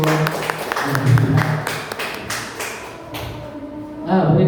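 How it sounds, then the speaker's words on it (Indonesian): Clapping from teachers after a classroom game at a physical education training session, a scattering of sharp claps and taps mixed with low voices and room noise. "Ya boleh tepuk tangan untuk"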